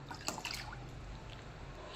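Tamarind juice and drumstick cooking water are poured into a pot of tomato drumstick rasam, a faint splash and trickle at first that fades into soft, quiet liquid sounds.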